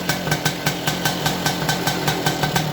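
A motorcycle engine idles after the lamp wiring is reconnected, on a bike whose wrong electrical wiring is making it sluggish. It gives a close, steady, rhythmic putter with regular pulses and no talking.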